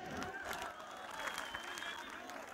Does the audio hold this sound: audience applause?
yes